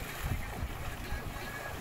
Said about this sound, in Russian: Мотор включил.